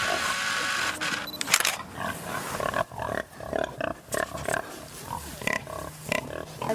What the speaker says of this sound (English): those 2 sows had these sows, and they had those like teenage piglets over there